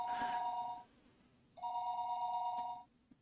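Two bursts of an electronic telephone ring after a short number is dialed in the Higurashi: Tatarigoroshi game, each trill lasting about a second with a gap between, clear and alone.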